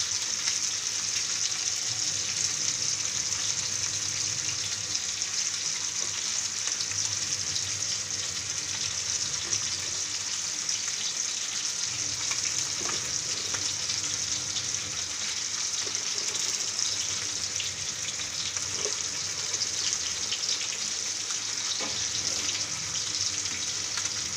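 Fish curry simmering in a pan with the fish just added, giving a steady, dense bubbling sizzle that carries on evenly throughout with no talking.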